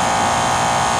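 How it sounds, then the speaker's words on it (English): A Lennox home air conditioner runs in summer with a steady, even whooshing hiss and a low hum underneath, continuous and fairly loud from close by, with no voices. "This is how quiet your expensive Lennox is going to be right here."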